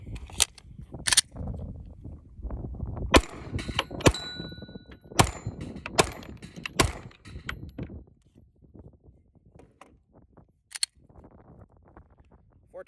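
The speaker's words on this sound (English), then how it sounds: "Four targets, 5 shots." Handgun shots at an outdoor range firing on steel targets, a string of sharp loud reports with metallic pings spaced over several seconds, followed by quieter handling noise.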